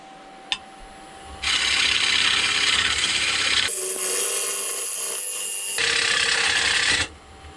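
A wooden bowl spins on a faceplate-mounted lathe as a tool cuts into it, giving a steady broadband hissing scrape in long sustained passes broken by short pauses, close and loud with no talking.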